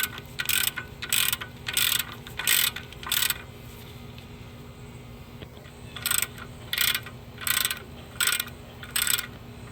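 A ratchet snugging up 17 mm brake caliper bolts on a 2015 Kia Soul during a front rotor and pad job: close bursts of rapid clicking in two groups of four and five, separated by a quiet pause.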